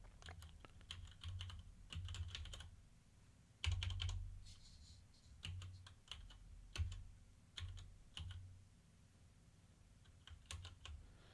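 Keys clacking on a computer keyboard in short irregular bursts of typing, close and fairly quiet, with brief pauses between runs.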